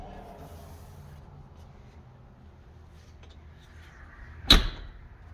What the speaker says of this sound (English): You hear how quiet that door shut?